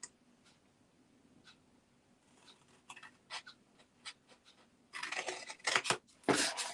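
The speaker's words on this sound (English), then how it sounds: "So I'm trying to cut in the groove." Scissors snip along a groove in card while making a gift tag box, a few faint, sparse cuts early, then louder dense rasping cuts near the end.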